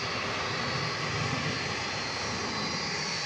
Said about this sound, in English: This is the 757 we saw come in just moments ago here on Runway DFW.